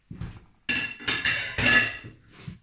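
A potato and onion tortilla is slid back into a frying pan, giving a few clanking metallic knocks and scrapes of the pan in separate bursts, close and fairly loud with no speech.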